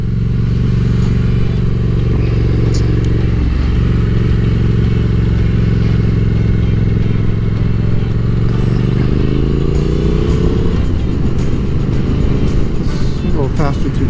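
A motorcycle is ridden through turns on an elementary school's car-line loop, its engine a loud, close, continuous drone that climbs in pitch as it accelerates toward the end.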